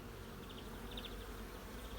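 A dense, steady buzzing of many honeybees around a hive fills the air, continuous and close, with no voices.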